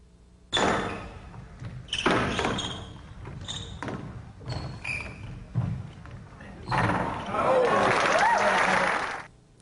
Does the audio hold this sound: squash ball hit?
yes